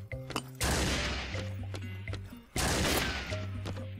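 Loud sniper rifle shots in the ArmA 2 DayZ mod game, two sharp blasts a couple of seconds apart, each followed by a rolling echo, heard without speech.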